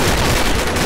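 Dense, continuous burst of gunfire in a first-person shooter video game on the Snow Valley map, with booming low end, loud and sustained throughout like rapid in-game shooting.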